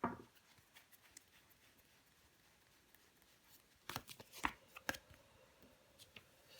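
Tarot cards handled and shuffled on a table, soft rustling and light flicking at first, then a cluster of sharper snaps and slaps as a card is laid down to cover another, with no talk.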